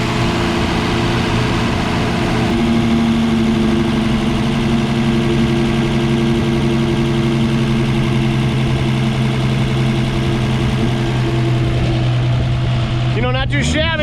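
A 1954 Ford F100 pickup, revived after sitting 39 years with a working carburetor, idles loudly and steadily nearby, its engine note easing down partway through, with people talking over it.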